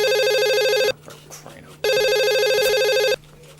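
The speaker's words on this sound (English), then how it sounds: "Wilma, could you get the phone?" A telephone rings in two long electronic bursts separated by a short gap, close and loud, with faint background sounds between the rings.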